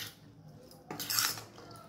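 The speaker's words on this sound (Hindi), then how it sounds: "अब इसे अच्छी तरह से मिला देंगे।" A spoon mixes kachalu salad with sliced green chili and coriander leaves in a bowl. There is a brief scraping clink against the bowl after a quiet start, close and soft.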